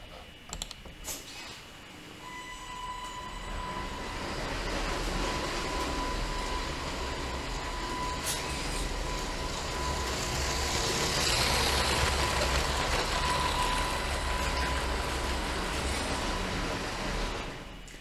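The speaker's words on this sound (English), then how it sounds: "And now let's see if that works. I'm starting the train." A LEGO Horizon Express 10233 toy train runs steadily with a continuous whirring motor and clicking wheels, plus a faint high tone, no voices, for the whole stretch.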